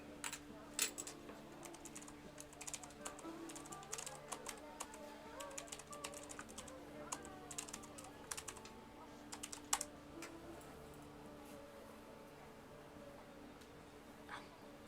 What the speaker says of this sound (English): Let's try just typing.